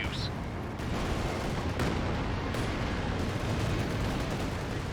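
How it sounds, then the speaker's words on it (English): A Land Mattress rocket barrage in the World War II strategy game Company of Heroes makes a dense continuous roar of rapid explosions and firing that fills the whole stretch, with a commentator's voice faint underneath. "Potential barrage running in that could finish off the Panzer IV, or that's a land mattress barrage."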